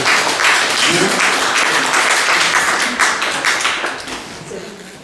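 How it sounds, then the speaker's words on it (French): A church congregation applauding for the Lord: dense, loud clapping from many hands at close range, with a few shouts mixed in, tapering slightly near the end. "Acclamez encore pour le Seigneur"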